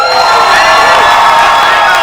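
A large live-event crowd cheers and whoops loudly and continuously, a dense roar of voices with high shouts throughout.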